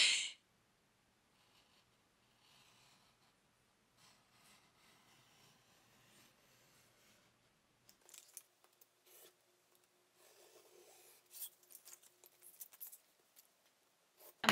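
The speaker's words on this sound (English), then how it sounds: "I'm gonna cut these this way with my scissors." Scissors cut paper yarn labels indoors, producing faint, sparse snips and rustles against near silence.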